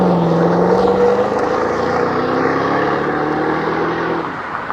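A 2010 Chevrolet Camaro SS in Summit White cruising past, its loud, close V8 engine note rising and falling in pitch as it goes by, then easing off slightly at the end.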